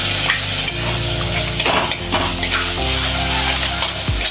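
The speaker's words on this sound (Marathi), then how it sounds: "या पेस्टला आपण तेल सुटेपर्यंत परतूया" Masala paste of onion, turmeric and red chili fries in oil while being stirred, with a loud close sizzle and spatula scrapes against the pan throughout, and no talking.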